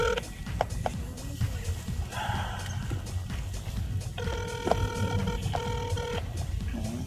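A cell phone call rings out in two long bursts of warbling electronic tone, the second steadier and more sustained, over a low rumbling background at moderate distance.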